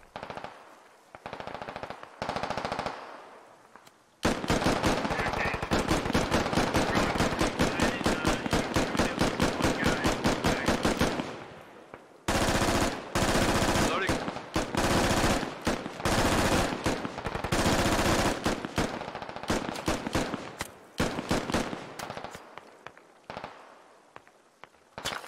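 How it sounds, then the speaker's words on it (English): Gunfire in the tactical shooter Squad: a few scattered shots, then long sustained bursts of rapid automatic fire with brief pauses, loud and close, trailing off into sparser shots. "Oop, and shots coming in."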